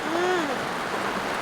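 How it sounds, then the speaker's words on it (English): Rain falling on an awning, a close, steady hiss of many drops, with a brief faint voice-like tone near the start; no clear talking. "Sitting here under the awning, listening to the rain, watching it, so nice."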